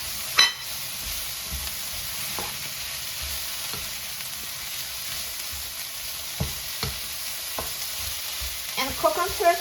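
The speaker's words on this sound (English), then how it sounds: "I'm going to add the snow peas because snow peas just stay a couple of minutes and mix" Ground beef stir-fry with vegetables and freshly added snow peas being stirred in a hot pan: a steady soft sizzle runs throughout, with occasional clicks and scrapes of the utensil against the pan and a busier clatter near the end.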